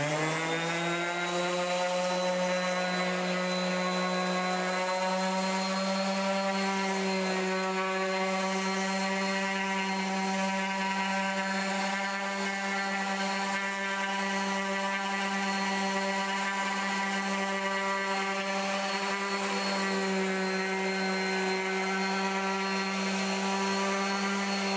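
A Bosch GEX125-1AE random orbit palm sander motor hums at a steady, constant pitch for the whole stretch, close and unbroken, with no talking.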